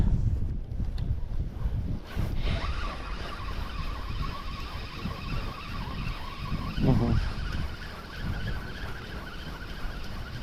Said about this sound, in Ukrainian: вітер почався